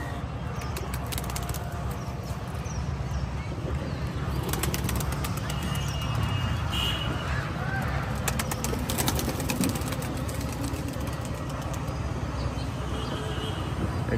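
Pigeons at a roadside pigeon farm, with a dense continuous backdrop of soft cooing, rustling and occasional wing flaps, under steady traffic-like ambient noise throughout.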